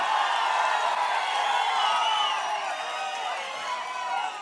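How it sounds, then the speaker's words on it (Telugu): A large crowd at a political rally cheers and claps continuously, a dense, steady roar of voices and applause filling the whole stretch with little variation in loudness. "మీరు కూడా గట్టిగా చప్పట్లు కొట్టి ఇలాంటి వాళ్ళకి స్వాగతం పలకాలి"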